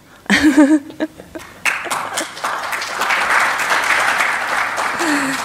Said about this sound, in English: I felt like that was a hand clap.